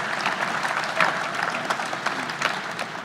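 An audience applauds the finalist companies at an innovation showcase selection, dense continuous clapping from a sizable crowd filling the clip at steady loudness.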